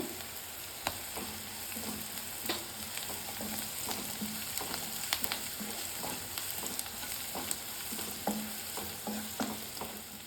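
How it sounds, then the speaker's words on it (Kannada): Onions and curry leaves fry and get stirred in a hot pan for horse gram upma, a steady sizzle running throughout with regular scraping and clinking strokes of the spoon, close and moderately loud, with no voices. "ಫ್ರೈ ಆದಮೇಲೆ ಈರುಳ್ಳಿ, ಕರ್ಬೇವಿನ ಸೊಪ್ಪು ಹಾಕೋತಾ ಇದ್ದೀನಿ"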